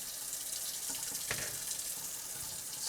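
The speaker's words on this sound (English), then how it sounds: "Keep some cold water running." Cold tap water running steadily into a kitchen sink while broccoli is cooled and drained, a constant close hiss and splash at a low level with no talk.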